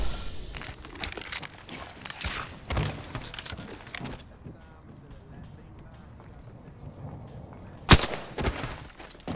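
Gunshots in Apex Legends, a few sharp, scattered reports, one louder crack standing out near the end, heard amid game movement sounds while people talk over them.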